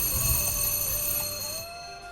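On a Pakistani televised quiz show, a team presses its buzzer, which sounds a steady electronic tone for about two seconds before cutting off, with no talking over it.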